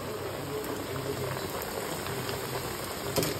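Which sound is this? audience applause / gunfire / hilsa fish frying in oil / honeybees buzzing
hilsa fish frying in oil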